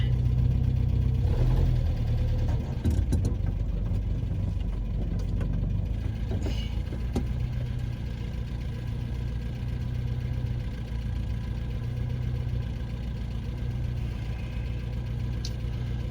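A 1972 Plymouth Cricket engine runs after sitting for 32 years, a loud, steady low idle with a slight uneven throb, close by, with a few faint clanks early on.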